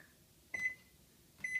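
A microwave oven beeps as its buttons are pressed: two short, sharp electronic tones about a second apart, clear and close over a quiet, faintly humming kitchen, with no voices.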